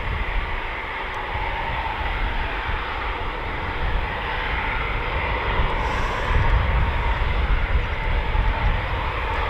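Eurofighter Typhoon FGR4 jets fly at RAF Coningsby during an evening air show, a broad, steady roar of jet engines that swells slightly partway through and carries on without voices.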